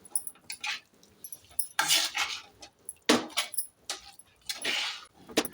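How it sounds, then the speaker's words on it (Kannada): Cooked rice being stirred into vangibath masala in a pan, with a run of close scraping and clinking strokes from a spoon against metal, coming in uneven bursts with short pauses between them. "ಅನ್ನವನ್ನು ಹಾಕಿ ಚೆನ್ನಾಗಿ ಮಿಕ್ಸ್ ಮಾಡಿ"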